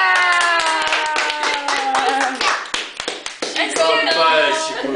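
A small group claps unevenly for a girl at her birthday cake, the taps close and irregular, mixed with voices talking and a tonal voice-like sound over the clapping.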